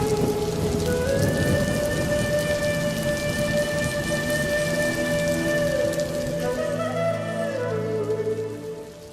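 Heavy, unceasing rain pours down in a dense, loud hiss, with a low rumble beneath it and no voices.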